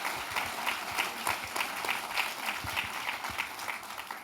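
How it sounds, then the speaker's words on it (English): An audience at an anniversary celebration gives steady, fairly distant applause, with many hands clapping in a continuous patter at moderate volume. "Well, applause."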